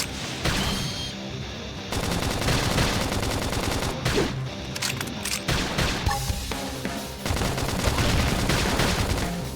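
Gunfire in the Xenoblade Chronicles X video game, rapid bursts of synthetic shots layered over a dense, loud battle soundtrack with sharp impact hits scattered throughout.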